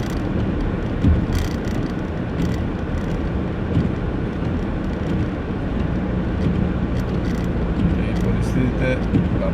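Car driving home through a heavy snowstorm on a snow-covered road, with a steady dense rumble of road and wind noise throughout and someone talking over it.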